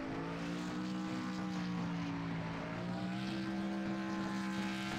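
A race car engine roars steadily at close range while the winning driver spins donuts and burnouts on the oval at Michigan, the drone holding a constant pitch with slight rising and falling waves and no voices.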